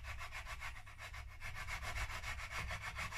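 Frets on a Fender Player Telecaster neck being leveled with a sanding block: fast, even, rhythmic rubbing strokes, close and continuous over several seconds.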